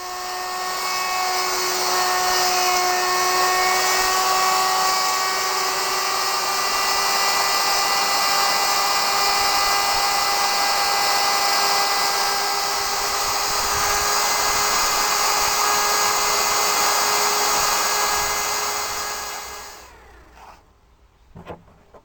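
A router cutting oak for a guitar part, a loud steady high-pitched whine that holds for about twenty seconds, then spins down and stops, close and alone.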